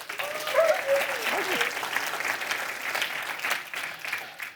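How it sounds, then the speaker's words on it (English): Conference keynote audience giving a round of applause, a steady broad patter of clapping with a brief whistle-like tone rising over it early on. "please give them a big round of applause"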